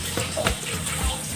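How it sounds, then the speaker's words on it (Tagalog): Water pours steadily out of a pot of cooked rice while the rice is drained for puto maya, making a continuous splashing gush that is close and fairly loud. "So, drain lang natin yung tubig."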